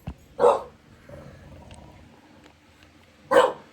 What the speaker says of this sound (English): What are you barking at, Drew?